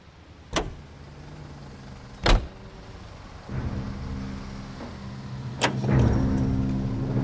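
A car in the video game L.A. Noire: a few sharp thuds ring out, then a steady low engine hum builds and keeps running while driving, with no one talking.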